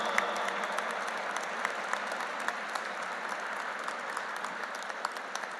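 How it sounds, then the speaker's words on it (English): A conference audience rises for a standing ovation at an interfaith harmony gathering, with steady, dense applause from a large room filling the whole stretch at moderate distance, no voices over it. "Let's rise in our seats and give a standing ovation to Honorable D. Christopherson."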